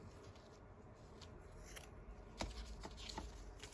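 Scissors cut through paper for a handmade folio, starting with soft rustling and then a few close, crisp snips in quick succession.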